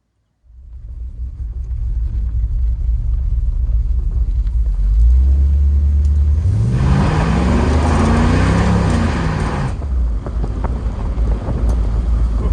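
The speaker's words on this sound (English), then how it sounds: "Time for burnouts and drifting." A 1978 Buick Regal V8 roars through burnouts, its deep rumble climbing into rising and falling revs at full volume, with loud tire and wind roar dominating the middle stretch before settling back to a steady engine drone; no talking.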